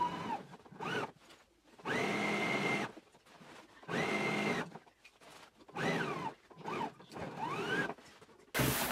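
Bursts of a sewing machine stitching a side seam on a Simplicity 8843 anorak, several short runs of motor whine rising and falling, separated by quiet pauses.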